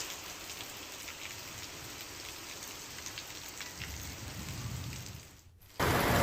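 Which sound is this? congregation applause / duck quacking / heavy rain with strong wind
heavy rain with strong wind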